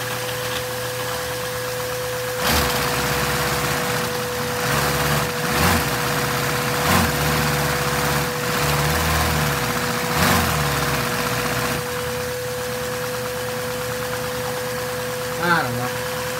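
A Lego inline-four vacuum engine runs with a steady mechanical whir and a constant tonal hum, punctuated by several louder revving bursts, with someone talking over parts of it.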